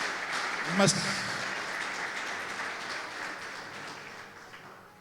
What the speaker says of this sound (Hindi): जोरदार तालियां हमारे